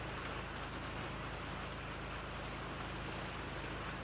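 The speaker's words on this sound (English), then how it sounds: "it started raining here in my greenhouse, which I'm sure you can hear" Steady rain patters densely on a greenhouse roof overhead, a constant even hiss with no breaks.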